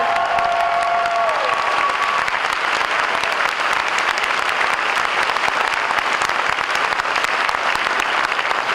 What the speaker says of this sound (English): please save up some of that applause for Dr. Rick Nickerson and your Wyndham Chamber Singers who did it again